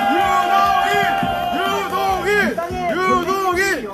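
A crowd at a Seongju candlelight rally shouts and cheers loudly, many voices overlapping in a continuous roar throughout.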